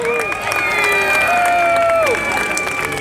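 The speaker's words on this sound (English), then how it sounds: "Give the Saxons a big cheer." Outdoor crowd at a Viking battle reenactment, Saxons versus Vikings in Peterborough, cheering, whooping and clapping with high shouts and whistles, a broad continuous roar that carries on throughout.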